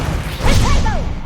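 A Levioso spell cast in Hogwarts Legacy: a loud whooshing burst with rising and falling whistling tones, lasting about a second over a dense game backdrop.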